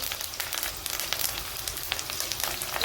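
Green chilies and curry leaves crackle and sizzle in hot oil, a steady close frying hiss broken by sharp spitting pops throughout.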